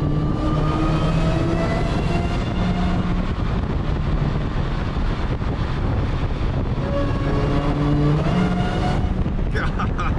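An 1100 HP Dodge Charger Redeye Widebody on drag radials accelerates inside a tunnel, giving a loud continuous engine roar with rising harmonic tones that echo off the walls throughout.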